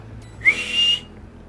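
A referee-type whistle sounds alone, one short chirp followed by a sustained, steady shrill blast of about half a second, close and loud, before quiet returns.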